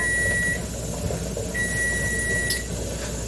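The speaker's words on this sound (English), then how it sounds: "that's our 10-minute timer" Kitchen timer beeping during pressure canning of ground beef, a thin electronic tone sounding twice, a long beep then another after a pause, over a steady hiss and hum of the stovetop canner.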